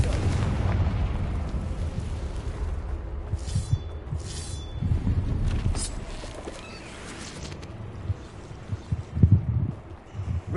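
Repeated Confringo blasting-curse explosions in Hogwarts Legacy, several heavy booms and fiery bursts spread across the stretch amid ongoing spell and combat effects, loud and close with a sharp cluster of impacts near the end.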